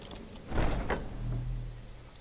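A door opens in the video game Skyrim with a short heavy creak and scrape followed by a low rumbling slide that fades out, heard alone without talking.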